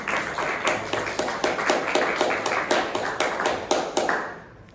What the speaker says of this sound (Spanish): como un aplauso realmente para los autores